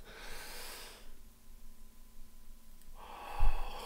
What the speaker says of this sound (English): you can just simply take a deep breath